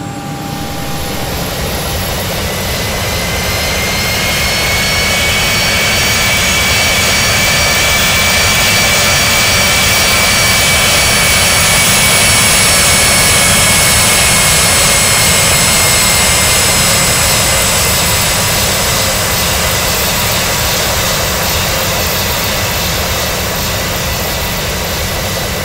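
Hawker 850XP business jet engines whining steadily while the aircraft taxis to the runway in a flight simulator game, a continuous loud turbine drone with high whistling tones that swells slightly mid-way and holds throughout, no talking.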